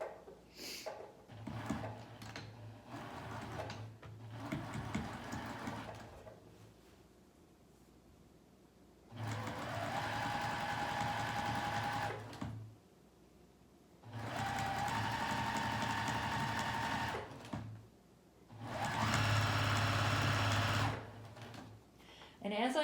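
A sewing machine sews a pajama pant seam in several bursts, each a loud, steady whir lasting a few seconds and separated by quiet pauses. A voice talks over the first stretch.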